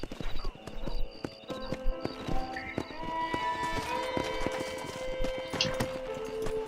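A horse in the Red Dead Redemption video game clip-clops on hooves, with steady hoofbeats and a whinny, accompanied by game music and ambience at moderate volume.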